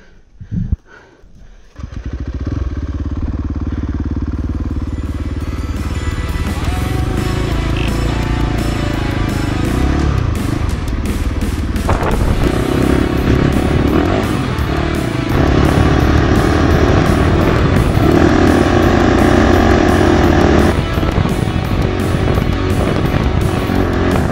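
A KTM 450 rally replica motorcycle roars steadily through Moroccan desert sand, its engine loud and continuous after a brief start, with wind and surging throttle throughout.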